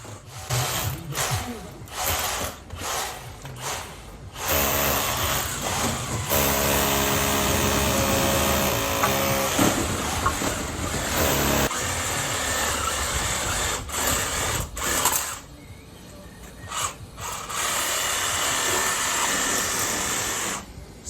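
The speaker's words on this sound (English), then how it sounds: "using the reciprocating saw and cutting down all the plastic sleeves" A reciprocating saw buzzes in long loud bursts, cutting through plastic sleeves during a window-to-French-door replacement, with short pauses and rattling between the cuts.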